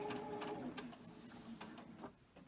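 A sewing machine stitches off the end of a pillowcase seam with a very short stitch length, giving a quiet, steady mechanical whir with light rapid ticking.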